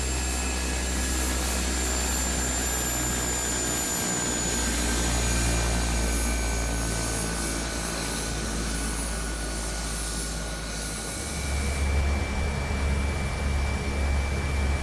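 A de Havilland DHC-3 lands on a tricky airfield approach, its engine a loud, steady drone that shifts pitch and swells near the end as it touches down and corrects.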